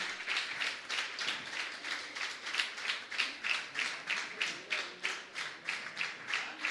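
An audience at an honoring ceremony claps in a rhythmic, fairly steady beat, many hands striking together in regular pulses, heard at a moderate distance and fairly quiet, with no talking over it.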